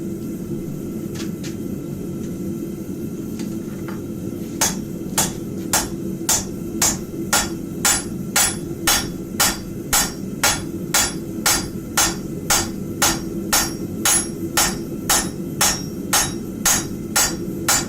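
Hammer blows ring out on round stock at a blacksmith forge, starting with a couple of light taps, then settling into a steady, even rhythm of sharp, close metallic strikes over a constant low rumble of shop noise.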